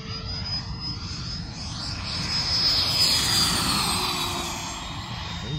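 A 9 ft T-38 Talon EDF model jet makes a high-speed pass, its ducted-fan whine swelling to a loud peak and fading away over steady outdoor noise.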